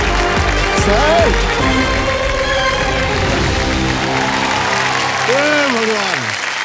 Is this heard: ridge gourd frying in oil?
no